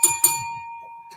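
A desk bell rings twice in quick succession, bright and close, its pure tone lingering and fading after the second strike.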